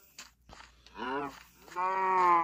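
A Jersey cow in Minecraft lets out two drawn-out moos, the second louder and longer, heard up close with nothing else around them.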